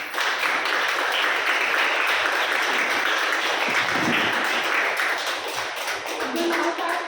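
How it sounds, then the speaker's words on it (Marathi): A large audience claps together in sustained, dense applause for several seconds at a prenatal care and pregnancy workshop, loud and steady throughout before thinning slightly near the end. "आपण टाळ्या वाजवूया खूप टाळ्या वाजवूया"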